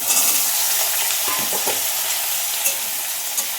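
Hot oil in a kadai wok gives a loud, close, hissing sizzle with a few bursts of sharper spitting and crackling, holding steady throughout.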